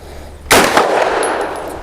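A single sharp gunshot from an Extar EP9 Gen 2 pistol, loud and close, with a short ringing metallic tail.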